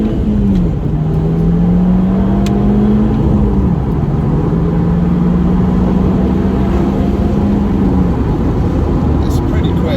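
An Audi Quattro pulls away in first gear in pouring rain, its engine note rising and holding strong and close under a constant hiss of rain and road noise.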